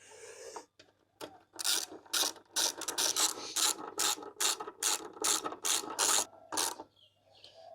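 Ratchet wrench clicking in quick, rhythmic bursts while tightening bolts on a backrest for a Royal Enfield Super Meteor 650 motorcycle, close and alone with no talk, about a dozen repeated strokes.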